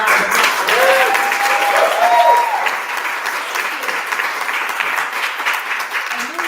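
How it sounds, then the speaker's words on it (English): Audience applause fills a room at a pitch competition event, steady and fairly loud for several seconds, with a few whoops and voices rising through the clapping. "Can we give them a round of applause?"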